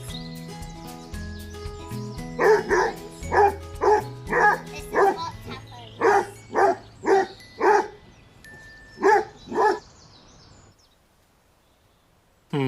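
A basset hound in a garden by raised beds gives a run of about a dozen loud, deep, evenly spaced barks and bays, close by, ending in silence.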